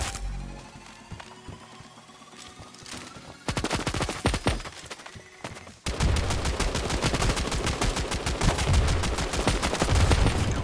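Gunfire in the mobile shooter Standoff 2: scattered shots at first, then dense, rapid automatic bursts that grow louder and nearly continuous in the second half, with no talking.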